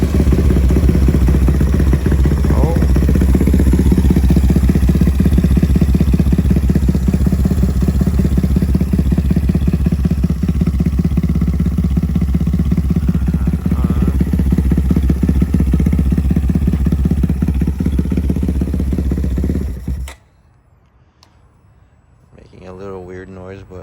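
A 205cc Honda Grom motorcycle engine with high compression fires up and runs loudly and close, a steady clattering idle with slight revs for about twenty seconds before cutting off abruptly, followed by faint background noise.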